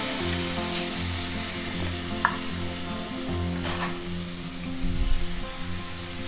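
Cut tomatoes fry in a pan with green chillies already in it, for a tomato coconut milk biryani. A steady, moderate sizzle runs throughout under a low hum, with a few brief clinks and no talking.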